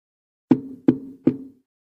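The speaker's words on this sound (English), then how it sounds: "Oh, someone's at the door." Three evenly spaced knocks land on a door, close and crisp with a short resonant thud after each, against silence.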